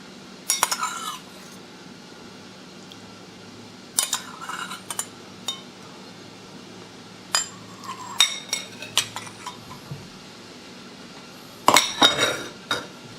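Hong Kong-style steamed rice roll being plated with beef brisket juice, bringing sparse bursts of clinking dishes and cutlery against a quiet background, with no talk.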